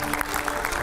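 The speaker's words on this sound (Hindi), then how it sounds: "जोरदार तालियों से स्वागत करिए" Studio audience claps to welcome a guest, a brief dense burst of many hands, steady and fairly close, lasting under a second.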